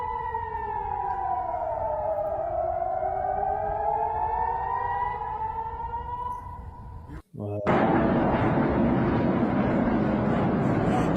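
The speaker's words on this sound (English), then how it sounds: "The air raid sirens in the distance." Air raid sirens in northern Israel wail from a distance during a rocket barrage, a long rising and falling tone. It cuts off abruptly near the end and gives way to louder, rougher noise.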